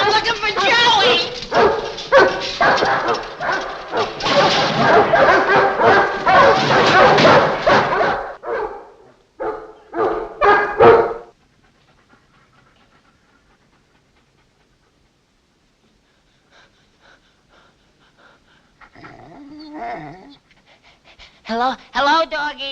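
Several dogs bark, yip and pant loudly for about ten seconds, go almost silent, then return with softer whimpers and panting near the end; a voice talks briefly among them.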